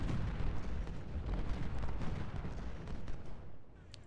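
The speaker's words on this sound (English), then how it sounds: "Now they've all got ammo. They're firing." Massed musket volleys from Civil War brigades in the strategy game Ultimate General: Civil War at Gaines' Mill, a dense rumbling crackle of distant rolling gunfire that thins out toward the end.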